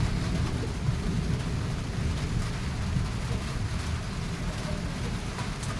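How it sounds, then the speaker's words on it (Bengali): Low thunder rumbles through steady, continuous rain, with a dense hiss of rainfall and some wind throughout, fairly close and even in level. "বৃষ্টি ডাকছে শুনতে পাচ্ছো বৃষ্টি ডাকছে কিন্তু বৃষ্টিও পড়ছেও"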